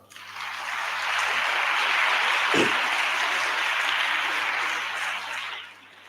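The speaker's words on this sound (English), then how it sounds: "Please give them a round of applause" An outdoor crowd at a school borehole handover ceremony applauds, the dense clapping swelling quickly, holding steady for several seconds, then fading off near the end, with a brief low thump partway through.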